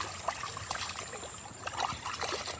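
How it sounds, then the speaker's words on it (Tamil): Water poured over raw fish to rinse it, a close trickling and splashing with small sloshes and drips throughout, no talking. "தண்ணி ஊற்றி ஃபஸ்ட்டு இங்கே அலசிக்கிட்டு"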